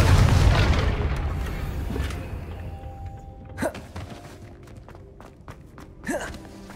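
A Confringo fire spell bursts in Hogwarts Legacy with a deep booming rumble that fades out, followed by two sharper whooshing spell sounds spaced apart, loud and close, with no talk over it.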